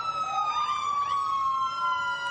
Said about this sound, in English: This is the only time you don't mind hearing the sirens, when you know it's for fun and no one is being pursued.